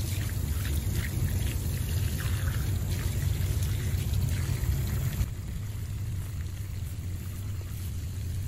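Water pouring steadily from a pump draining a freshly dug pond into a culvert outdoors, a continuous rushing splash that stays close and even throughout, easing slightly near the end.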